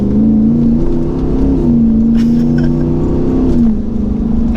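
A Jeep Wrangler JL fitted with a swapped Hemi V8 pulls at quarter throttle, its deep engine note rising and holding steady, loud and close up, then easing off near the end.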